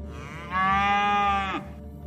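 A single long, loud cow moo lasting about a second, heard close up against a quiet background.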